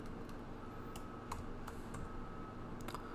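Typing on a computer keyboard, with a handful of distinct, fairly quiet keystroke clicks spaced irregularly over low room background.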